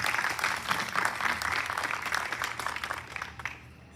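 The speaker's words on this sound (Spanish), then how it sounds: "Un aplauso, por favor." A lecture audience applauds a historian at the Casa de Lázaro Cárdenas, a steady, dense wash of many hands clapping that carries on evenly and tapers slightly at the end.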